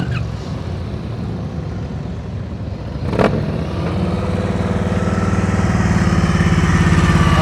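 A motorcycle engine idles steadily at a slow-speed riding practice session, a low continuous rumble that grows slightly louder toward the end, with a brief sharp knock partway through.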